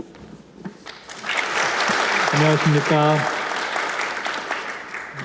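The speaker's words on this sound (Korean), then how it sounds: "큰 박수로 모시겠습니다" Audience applause fills a ceremony hall as the Handong Global University president is welcomed at the Ulleung Global Green Island project agreement signing. Clapping builds and holds loud while a voice briefly greets the crowd over it.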